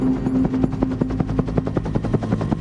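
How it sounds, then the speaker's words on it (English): A Bell UH-1 Huey command and control helicopter flies over a battlefield, its rotor beating in a fast, steady thump over a low engine drone, loud and fairly near. "A command and control helicopter flew 450 meters over the battlefield."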